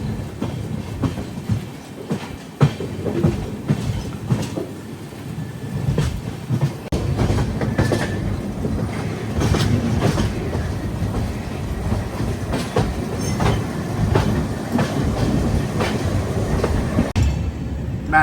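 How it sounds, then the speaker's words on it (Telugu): Inside the Pinakini Superfast Express leaving platform 5 at Chennai Central, the train rumbles steadily with rhythmic clickety-clack from the wheels over the rail joints. The noise is close and continuous, with no voices. "ప్లాట్ఫామ్ నెంబర్ 5 చెన్నై సెంట్రల్ నుంచి బయటకు వచ్చింది బండి"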